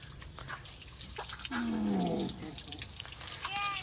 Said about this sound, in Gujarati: એની ઉપર નળી રાખ એટલે ઠંડુ થઈ જાય